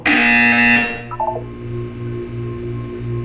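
A video game buzzer sounds loud and shrill in a bright electronic tone for about a second, then gives way to a few stepped beeps and a low pulsing hum that continues.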